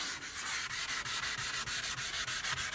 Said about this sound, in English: I'm doing a little wet sanding here on the fender